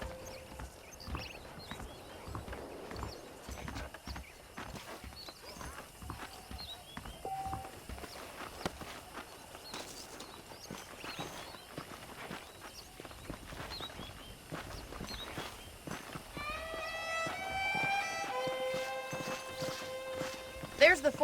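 Horse hooves clip-clop at a steady walking rhythm in Red Dead Redemption, moderately close under ongoing conversation between characters, with a whinny near the end.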